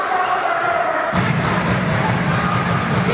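Crowd noise swells at a Serie A futsal match between Real Rieti and Kaos Mantova after a goal, a dense, steady roar of applause and cheering that rises sharply and stays loud to the end.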